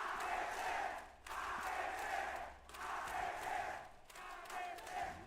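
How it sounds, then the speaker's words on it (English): Crowd at a VALORANT esports match roars in continuous waves of cheering and shouting, loud and steady across the whole stretch with no talk over it. "You can hear the crowd"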